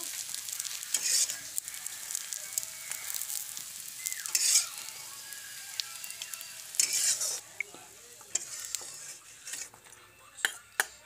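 Oil sizzles steadily as soybean chunks fry in a home kitchen, with occasional scrapes and clinks of a utensil against the pan as the pieces are stirred and lifted out.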